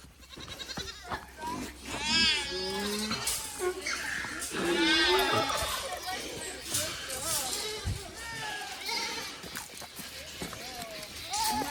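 Goats bleat loudly and repeatedly on a farm, with a livestock guardian dog nearby, their wavering cries rising over each other and mixed with close voices and some movement.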